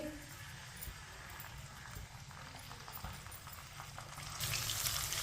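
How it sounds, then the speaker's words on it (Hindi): Chopped onion and garlic frying in oil in a pan while being stirred with a spoon, a steady sizzle with rhythmic scraping taps of the spoon, growing a little louder near the end. "प्याज और लहसुन को हल्का सा ब्राउन कर लेंगे।"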